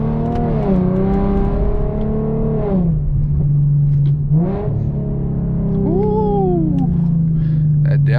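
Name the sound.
car exhaust revving without muffler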